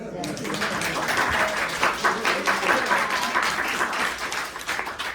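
An audience at a talk about Lerner and Loewe bursts into sustained, dense applause from many hands, steady and fairly loud throughout, with a few voices mixed in.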